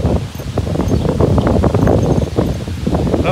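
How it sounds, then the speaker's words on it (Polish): Strong gusty wind blasts across the microphone on a walk by marshes and a bike path, in loud, continuous low rumbles and buffeting, with no talking. "Straszny wiatr."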